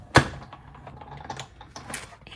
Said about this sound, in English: we will just run this through the cut and emboss machine